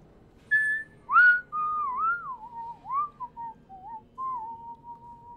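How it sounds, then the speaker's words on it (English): A lone person whistles a wandering, melodic tune at a distance, thin clear notes rising and falling over a low steady background rumble, with short pauses between phrases and no talking. "we actually hear the distant whistling of someone"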